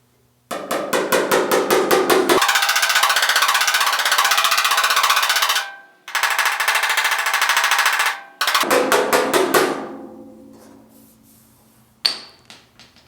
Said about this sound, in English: I'm going to grab a hammer real quick. We're going to tap right here